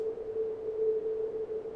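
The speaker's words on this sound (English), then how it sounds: "but has a whistly, windy sound to it. The sound of filtered noise." Pink noise narrowly band-pass filtered around 440 hertz makes a soft, continuous whistly, windy tone with a clear steady pitch and gentle fluctuations, heard alone.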